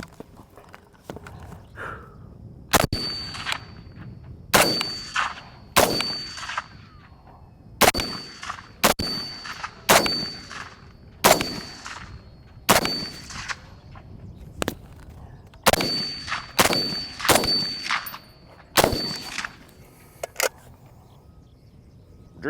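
An M1 Garand rifle firing at steel targets, about a dozen sharp shots each followed by a ringing metallic clang, spaced a second or two apart in uneven bursts with quiet gaps, loud and close.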